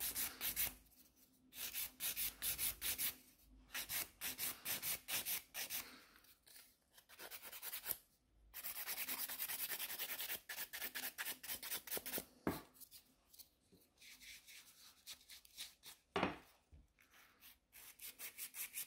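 Gel nail extensions are filed in repeated short rasping strokes, close and quiet, coming in bursts with brief pauses between.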